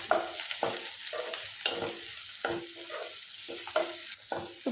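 Tomato pieces frying in a curry pan for a broad bean tomato curry, stirred with repeated scraping strokes in a steady rhythm over a soft sizzle, close and fairly loud with no talking.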